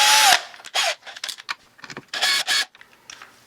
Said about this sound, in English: I'm going to use the correct size drill bit to mark it